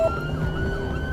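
An ambulance siren wails in a single steady rising tone over a low engine rumble, brief and fairly close, with no talking.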